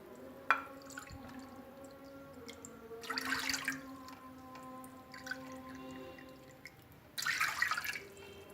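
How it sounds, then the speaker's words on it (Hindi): Water poured into a kadhai for soup, with two short splashing bursts of pouring separated by quiet gaps and a faint drip at the start, close and fairly soft. "मैं तकरीबन 4 प्याली के करीब पानी डाल रही हूँ"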